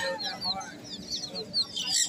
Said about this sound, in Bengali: সোনালী মুরগির ছানা।